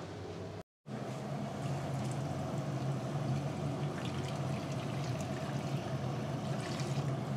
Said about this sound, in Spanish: El agua se pone hasta los clavos de la paella.